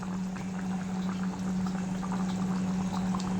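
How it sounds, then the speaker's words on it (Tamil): Ground coconut paste drops into a simmering prawn and brinjal gravy, leaving a soft, steady bubbling and sizzling from the pan under a constant low hum, with no talking. "இந்த ஸ்டேஜில் நம்ம அரைச்சி வச்சுருக்கிற தேங்காய் விழுதை போட்டுடலாம்."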